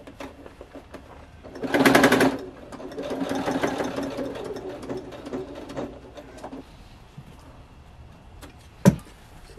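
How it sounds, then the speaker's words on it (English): Sewing machine stitching fabric in short bursts, with a loud run of fast rhythmic whirring, a longer softer run, then quiet handling noises and a sharp click near the end. "Don't like when my sewing machine makes new noises."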